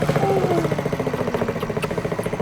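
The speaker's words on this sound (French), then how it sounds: "Tu conduis une moto maintenant?" Motorcycle engine idling nearby, a steady low pulsing putter with a regular rhythm, fairly loud with no speech over it.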